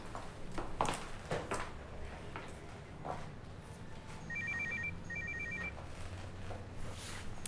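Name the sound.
mobile phone ringing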